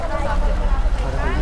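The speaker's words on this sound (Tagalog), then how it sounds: "Ayan na, start na yung makina." A boat engine running at Buyabod port on Marinduque, a steady low rumble with water noise, loud and close, with voices talking over it.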